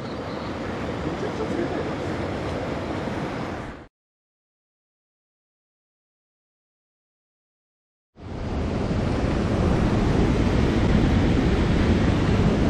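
Rushing mountain river at the Kurobe headwaters, running high after heavy rain: steady broadband roar of flowing water up close, cutting out completely for about four seconds midway before returning just as loud.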